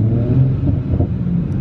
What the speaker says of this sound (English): Ooh, got a little pop there.